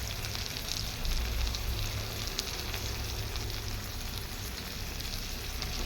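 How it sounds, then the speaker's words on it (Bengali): Pieces of paneer fry in hot oil in a pan, giving a steady, close crackling sizzle that holds evenly throughout with slight swells and no voices. "পনির ভাজতেছে, এর মধ্যে পনিরগুলো দিয়ে দেবো"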